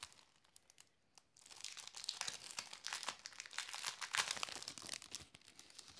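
Plastic packaging around glitter sticker frames being crinkled and torn open up close, a few light crackles and then a dense run of rustling and crumpling that grows louder.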